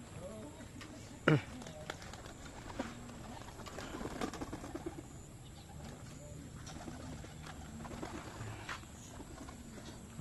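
Pigeons being fed, with soft cooing and bird sounds spread across the clip and a sharp knock or flap near the start, plus faint background noise.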